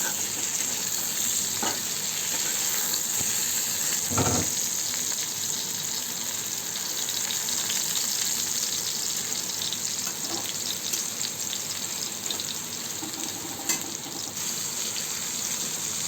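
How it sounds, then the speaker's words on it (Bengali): Pointed gourd (potol) pieces fry in oil in a kadai, a steady close sizzle with occasional stirring knocks and a brief scrape, continuous and without speech. "এই তো আমার পটলগুলো ভাজা হয়ে গিয়েছে।"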